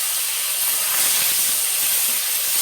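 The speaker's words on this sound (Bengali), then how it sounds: "এই কড়াইতে এই বাটা পেঁয়াজটা দিয়ে দেব" Onion paste fries in a wok with a loud, continuous hissing sizzle, close and steady throughout.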